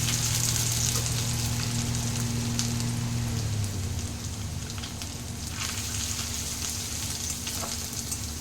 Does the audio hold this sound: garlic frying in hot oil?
yes